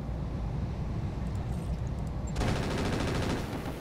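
Rapid machine gun fire in the mech combat game Roguetech, a dense, continuous rattle that grows harsher and brighter partway through, layered with a steady low rumble and no talking.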